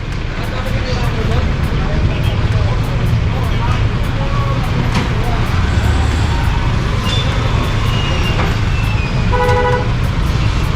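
Steady heavy traffic rumble fills the scene, with a vehicle siren and horn honking near the end and a person talking over the noise.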